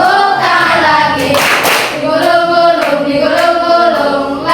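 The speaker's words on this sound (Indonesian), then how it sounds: "Buka tutup, tepuk tangan lagi." A group claps hands together in a classroom lesson, steady rhythmic claps running throughout alongside singing voices, loud and close.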